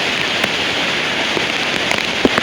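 Downpour at Raigad fort, a loud, constant close rush of rain hitting surfaces, with a few sharper drops standing out and no one speaking.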